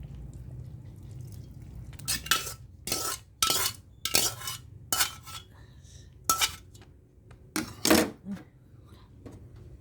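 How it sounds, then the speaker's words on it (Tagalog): Creamy carbonara pasta gets stirred in a pan, with a series of loud, clattering scrapes and knocks of a utensil against metal coming in irregular bursts over a soft background. "Tapos haluin ang ating creamy carbonara pasta."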